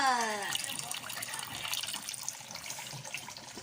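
Water running from a tap while balut eggs are washed, a steady hiss and splash throughout, close and moderately quiet, with a brief tonal whine at the start.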